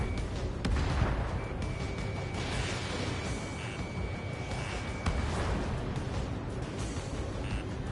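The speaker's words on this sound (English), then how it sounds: "Missile launched." A missile launching from a jet fighter in the flight combat game Ace Combat 7, a steady roaring rush layered with sharp bursts and a thin sustained lock-on tone, loud amid dense engine and combat noise.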